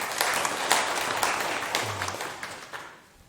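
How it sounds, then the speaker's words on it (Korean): Audience applause during a lecture: a room of listeners claps steadily, the sound strong at first and then thinning out toward the end, with a brief murmur underneath. "박수 한번 주세요"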